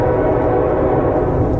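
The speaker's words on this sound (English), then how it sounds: "A train horn comes from behind even though the tracks have been ripped up long ago." Train with its horn sounding in a tunnel at an abandoned site, a loud steady low rumble with a sustained droning horn tone filling the whole moment.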